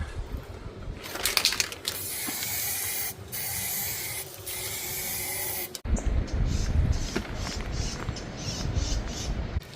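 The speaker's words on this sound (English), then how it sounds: "There's obviously pros and cons for using paint or spray paint in a tin" Spray paint hisses from a rattle can onto a cottage stair grille outdoors, in several close, loud bursts of rushing spray separated by short pauses.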